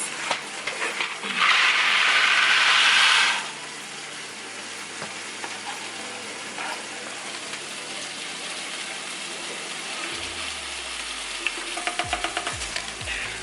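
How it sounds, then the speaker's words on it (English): Water churns and bubbles steadily in a pot for mac and cheese, a loud rushing burst early on, then a softer continuous simmer with scattered clinks. "So the water is bubbling, it's boiling."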